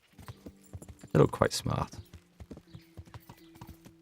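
In the game Kingdom Come: Deliverance, a horse's hooves clip-clop in an even walking rhythm, close and steady, while someone talks over the steps for part of the time.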